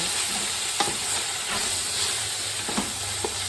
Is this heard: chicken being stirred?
yes